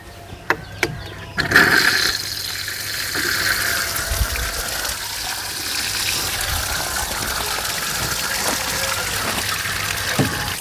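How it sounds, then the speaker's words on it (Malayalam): After a few clicks and knocks, settled water gushes steadily from an opened tank of a whole-house iron-removal vessel filter, a loud continuous drain with no talk. "ഈ ടാങ്കിലത്തെ സെറ്റിലായണ വെള്ളം ഉണ്ടല്ലോ അത് നമുക്കൊന്ന് തുറന്നു നോക്കാം"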